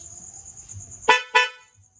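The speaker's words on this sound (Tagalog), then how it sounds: "Ito yung stock horn." A Honda XRM110 motorcycle's stock horn sounds two short close honks in quick succession, over a constant high insect-like whine and low background rumble.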